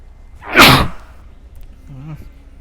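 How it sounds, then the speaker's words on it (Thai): A single sharp human sneeze bursts out loud and close, followed by a short quiet pause and a faint murmur afterward. "ตั้งนานไม่จามพออัดคลิปจามเฉย"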